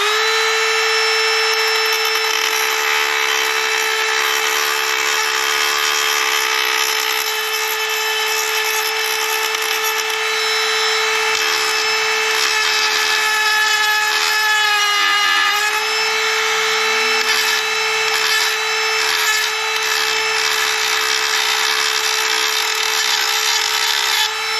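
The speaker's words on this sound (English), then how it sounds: "Alright, got the Dremel out" Dremel rotary tool cutting into a Kawasaki Z900 windscreen, a steady high-pitched whine held loud and close for the whole stretch, with a brief dip in pitch midway as the bit bites harder.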